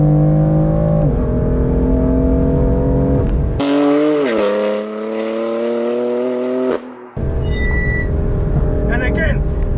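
A BMW F82 M4 with DCT gearbox and upgraded suspension at stock power, accelerating hard through canyon roads. The engine revs climb loudly, then a sharp upshift cuts in, the rise resumes, another brief gap follows, and it pulls on again.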